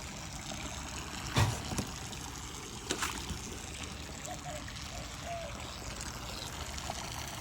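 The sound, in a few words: aquaponic auto siphon draining water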